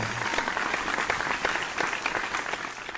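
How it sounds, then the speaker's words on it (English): A live audience applauds the top 9 finalists of a televised singing competition finale, a dense, steady round of clapping filling the hall for about three seconds with faint crowd noise beneath. "please give them another big round of applause, our main stars of the show, the top 9."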